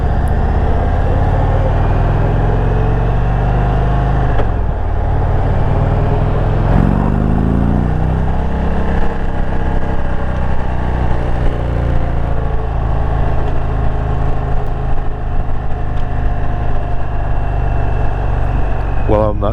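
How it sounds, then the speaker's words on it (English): A 2021 Indian Roadmaster touring motorcycle with a 114 engine rumbles steadily on a test ride, its low engine drone and wind noise continuous throughout while someone talks over it. "when you hammer it, you give it some gas, it takes off better than this bike"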